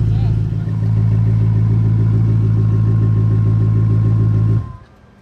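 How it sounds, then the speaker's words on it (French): Koenigsegg car engine idling, a loud, deep, even burble held steady and close for several seconds, then cut off abruptly near the end. "Démarrer la voiture, c'est un énorme bouton là au centre."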